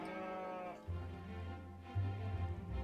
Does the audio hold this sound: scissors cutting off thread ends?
no